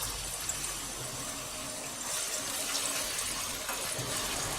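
Cut potatoes, a vrat snack, fry in hot oil with a dense, steady hiss and crackle, moderately quiet and continuous, with no talking.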